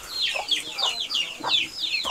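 Chickens clucking among farm poultry in a mountain village, a series of short, sharp, high clucks repeating in quick bursts, close and clear with no talk.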